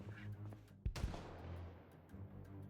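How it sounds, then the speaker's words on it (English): A single faint, distant gunshot booms once in the Project Zomboid video game, a muffled crack rolling out over a quiet low in-game ambience. "that's a gunshot meta event just as I go to bed"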